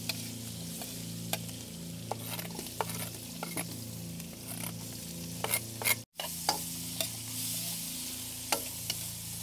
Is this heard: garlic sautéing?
yes